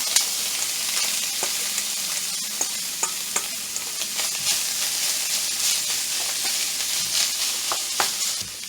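Drained ground meat frying in a skillet, with a bright steady sizzle and repeated utensil scrapes and taps as it is stirred, close and clear, with no talking.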